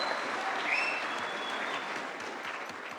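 A large audience at an Independence Day awards conclave claps in a dense, sustained round of applause that stays steady throughout and fades slightly toward the end.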